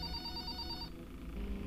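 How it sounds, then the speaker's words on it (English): A telephone rings inside the Five Nights at Freddy's video game, a steady electronic bell trill that cuts off partway through and is then followed by low background hum. "Phone's ringing. Let's listen."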